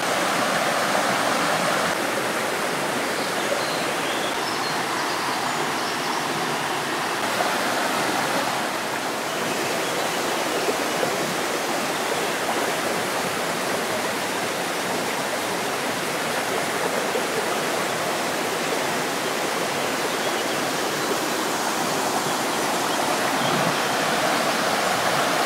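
Broad, steady rush of falling water from waterfalls in a wild spot by a bridge, loud and continuous with no other sounds, constant in level throughout.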